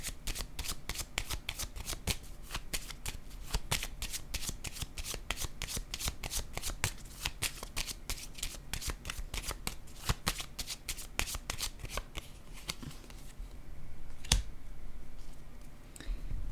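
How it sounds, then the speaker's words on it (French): Playing cards handled on a table as one card is laid down over two others, giving a long run of crisp, close card snaps and taps at a quick irregular rhythm, fairly quiet. "je vais déposer une autre carte sur les deux pour m'aider à comprendre"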